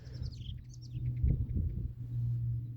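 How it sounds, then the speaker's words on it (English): Birds give sharp, high, repeated alarm chirps outdoors, a quick run of calls that fades into a steady low rumble with some soft thumps. "See, there's a signal from the birds."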